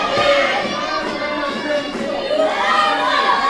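Ringside at the EWF Arena during a wrestling match, a crowd of many shouting, higher-pitched voices, including children, roars and cheers continuously at close range.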